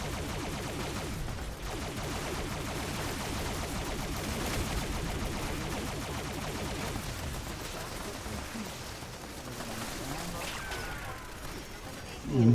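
A TSE Alien Disintegrator fires in the Fallout 76 video game, dense rapid shots running together into a steady barrage that lasts the whole stretch and ends in a loud burst.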